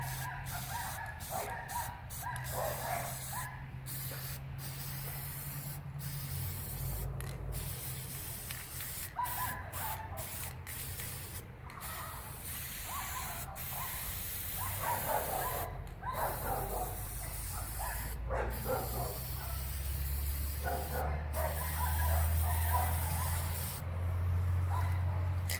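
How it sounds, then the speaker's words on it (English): Black rust-preventative spray paint is applied to old horseshoes in repeated short hissing bursts separated by brief pauses, close and moderately loud, with a low hum underneath. "take some black rust preventative paint and just go ahead and coat the front of it"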